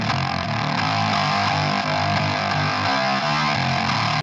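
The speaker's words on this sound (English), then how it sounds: "This is a synthesizer being run through my guitar amp." A gritty, distorted synthesizer tone drones through an amplifier, buzzing and growling steadily with shifting low notes.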